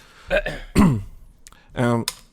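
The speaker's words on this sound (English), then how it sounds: "Clear your throat and sip some water." A man clears his throat a few times in short, gravelly bursts, close to the microphone, mixed with voiced throat sounds.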